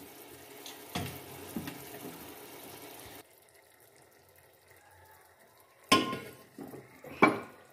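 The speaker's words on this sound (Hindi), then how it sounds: "और इसको हम साथ मिक्स करते रहेंगे अच्छे से।" Lentils stirred in a cooking pot for chicken haleem, with scraping and clinking of a spoon against metal, a few loud knocks near the start and end around a quieter middle stretch.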